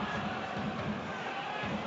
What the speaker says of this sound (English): the Motherwell fans applauding the skill from their players